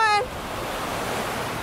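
Ocean waves at Newport Beach wash up onto the shore in a continuous broad rushing surf with a wind-buffeted roar, preceded by a short tonal beep at the very start.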